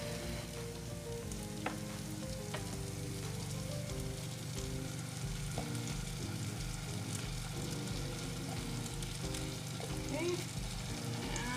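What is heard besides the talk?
broth concentrate sizzling in a pan with steak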